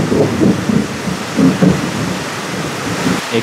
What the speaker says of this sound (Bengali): প্রচণ্ড জোরে বাজ পড়ছে বারবার